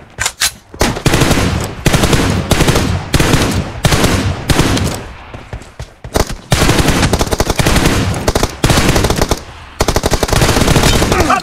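An M416 rifle in a multiplayer shooter video game fires loud, rapid automatic bursts, one after another. Short pauses between bursts suggest reloading.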